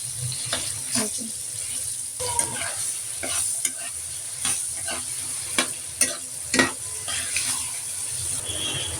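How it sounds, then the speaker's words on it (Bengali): Soft sizzling of mango pieces frying in a pan over very low heat, with repeated scraping and stirring clicks of a utensil, close and moderately quiet. "চুলার আঁচটা একদম কমিয়ে লোতে রেখে তারপরে এগুলো ভাজতে হবে"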